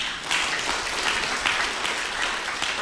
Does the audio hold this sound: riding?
no